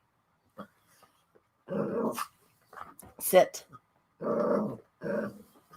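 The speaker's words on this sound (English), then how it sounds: "I've got a poodle behind me that's going a little crazy." A poodle indoors growls and barks in several separate bursts, fairly close and loud, with short pauses between them, while someone speaks a command in between.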